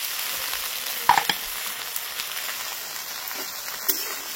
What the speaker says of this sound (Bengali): এবার দিয়ে দিচ্ছি মটরশুঁটি। সব একসাথে ভেজে নেব।